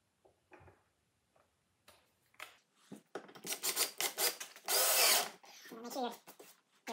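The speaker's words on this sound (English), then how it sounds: "Make sure your board doesn't jump up when you screw it down" A power drill driving long screws down into a wooden guitar-body board, a few faint clicks and handling taps leading into a loud whirring burst of drilling that rises and cuts off, heard close.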